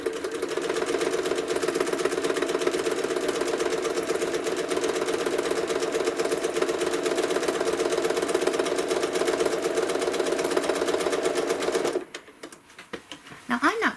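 A domestic sewing machine runs steadily for about twelve seconds, making small quilting stitches with a fast, even mechanical whir, then stops abruptly and leaves a few faint handling clicks.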